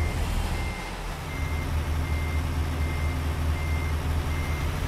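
In American Truck Simulator a truck shifts into reverse, and its backup alarm beeps at a steady, evenly spaced rhythm over a low, constant engine rumble.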